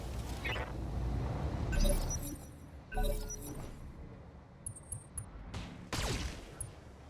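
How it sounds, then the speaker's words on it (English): Weapons fire from a mech in the Battletech video game: several loud, close bursts and impacts with crackling, shattering tails, spaced a second or so apart, followed by smaller sharp pops, with some talking mixed in. "Firing all weapons."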